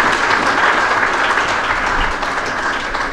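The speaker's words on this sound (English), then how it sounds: "a huge round of applause for Ms." Applause for Jwala Gupta at an International Women's Day celebration, a dense, even wash of clapping from a crowded hall, loud and steady before easing slightly at the close.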